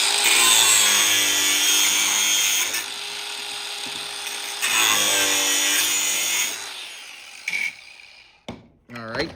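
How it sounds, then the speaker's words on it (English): A Sawzall reciprocating saw cuts through copper, buzzing loudly and rapidly in a few close bursts with short pauses, then stopping as the work falls quiet. "we're just going to hit this with the Sawzall and see how well we can pull this out"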